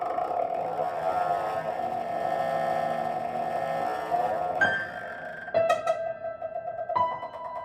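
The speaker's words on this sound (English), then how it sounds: "if I speed it up enough, it becomes different pitches" A repeating recording sped up on a MIDI-controlled looper until it turns into pitched tones. A steady droning hum with sustained tones runs throughout, then sharp clicky bursts and shifting pitches appear near the end. The level is moderate and no one speaks.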